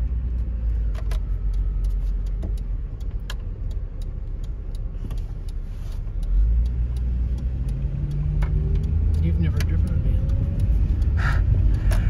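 A 1999 VW Eurovan VR6 drives along with a low rumbling engine and road noise that swells slightly partway through, accompanied by intermittent clicks and ticks inside the cabin.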